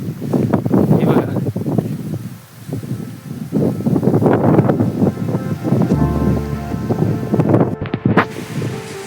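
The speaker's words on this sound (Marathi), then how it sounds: "बघा वारा बघा कसा आहे" Wind at Peb fort on a hillside trek gusts hard against the microphone, blasting in uneven bursts of roaring buffeting with brief lulls between them.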